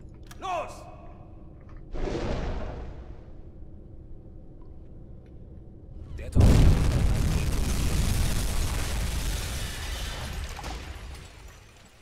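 In the submarine game UBOAT, a torpedo explodes against a ship with a sudden deep blast and a long rumbling roar, preceded by a few faint clanks, a short whoosh and a low hum.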